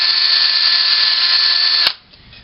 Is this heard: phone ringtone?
no